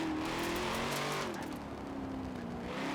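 A Chevrolet Corvette C8 V8 in Forza Horizon revs steadily and loudly, its meaty engine tone rising and easing slightly over a few seconds with no voices.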